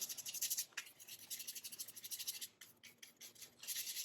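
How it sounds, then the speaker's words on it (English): Acrylic paint scrubbed onto canvas with a paintbrush, a close, quiet bristly rasping in short repeated strokes with brief pauses between bursts. "I even scrub a little like this to just kind of get the shadows down"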